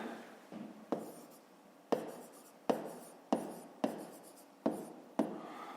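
Hand-writing a fifth-grade math solution: quiet, close strokes and taps of a pen on paper, a string of about ten short scratches in an uneven rhythm, with no talk over them.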